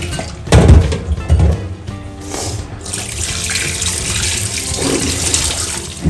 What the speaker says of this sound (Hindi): दूसरा पानी डाल के हम इसको धुल लेते हैं आराम से